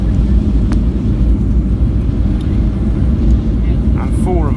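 Inside the cabin of an Icelandair Boeing 757-223, reverse thrust after landing at Keflavik builds into a steady, loud, low roar that holds throughout, with faint voices near the end.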